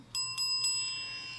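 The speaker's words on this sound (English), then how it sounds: "ankle bells" Ankle bells strike three bright metallic rings in quick succession, and the tones sustain and fade gently in a quiet setting.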